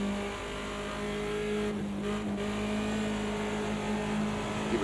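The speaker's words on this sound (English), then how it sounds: "This car just loves being slid around on the gas." A BMW 2002 Turbo race car in a video game at Bathurst drones with a steady, loud engine note while sliding sideways, tires squealing faintly beneath the continuous sound.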